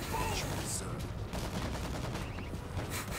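Continuous gunfire in the video game World War Z, a dense rattle of automatic shots throughout, fairly loud amid game noise.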